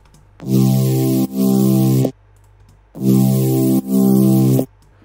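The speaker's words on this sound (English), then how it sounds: "Now let's move on to the mid basses." Two pairs of thick synthesized bass notes, buzzy and harmonically rich, each held about a second with brief gaps between, loud and alone.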